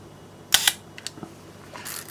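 Close, quiet mechanical clicks of a Yashica Minister III leaf shutter being fired, a brief double snap followed by smaller clicks of handling, with no talking.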